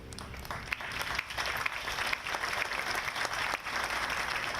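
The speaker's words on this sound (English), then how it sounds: "Let's give our Councilmember a big round of applause" A dense burst of applause from a sizable crowd at a Memorial Day ceremony, steady and full for a few seconds with no one speaking over it.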